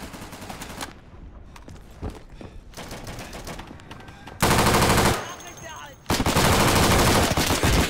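Automatic weapon fire in the World War II shooter Day of Infamy, loud sustained bursts with quieter scattered shots between, the heaviest fusillades near and dense in the second half.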